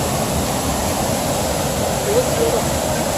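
Athabasca Falls waterfall roaring as a steady, dense broadband rush that holds constant throughout, with faint voices partly buried beneath the water noise.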